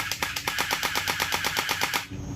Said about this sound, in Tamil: அந்த இருந்து வரக்கூடிய சவுண்டு பாருங்கள் எக்ஸாக்ட் ஏகே ஃபார்ட்டி செவன் மாதிரியே இருக்குது